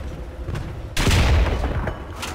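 A single loud tank cannon shot in War Thunder. It cracks out suddenly, and a heavy rumbling boom decays over about a second, with a low engine rumble before and after.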